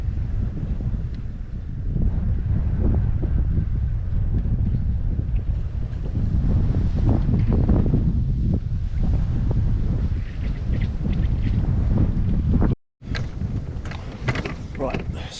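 Cold winter wind buffets a microphone beside a lake during sub-zero carp fishing, a loud continuous rumbling roar with gusty swells and a brief dropout near the end.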